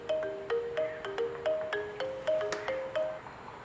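A phone rings with an electronic ringtone, a short bright melodic phrase repeating in quick, regular bursts, fairly close and clear with no talk over it.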